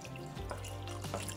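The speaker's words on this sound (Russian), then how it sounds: "добавляем холодную воду" Cold water poured into a multicooker bowl holding minced-meat mixture with cream and nutmeg, a steady close stream running for just over a second with no talk.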